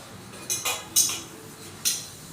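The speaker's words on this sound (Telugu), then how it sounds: "ఇంకా అందుకోసమే గిన్నెలు అయితే కడిగేస్తున్నాను" Dishes and utensils clatter while being washed, with four or five distinct metallic clinks and knocks spaced over two seconds against a quiet background hiss, and no voices.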